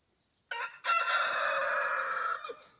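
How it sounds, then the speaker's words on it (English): A hungry rooster crows once nearby, loud and clear, a long drawn-out call with a short break near its start, heard alone against a quiet backyard garden. "I think the rooster's hungry."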